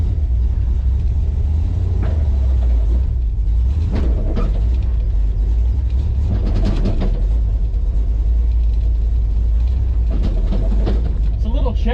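A car engine with a freshly installed clutch runs and idles with a loud low rumble and a slightly chattery, uneven rattle, with a few louder bursts as gears are engaged.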